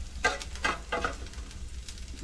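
Garlic frying in a pan for a vegetable Manchurian gravy, with soft steady sizzling broken by a few brief louder bursts, probably from stirring, close by and with no talk.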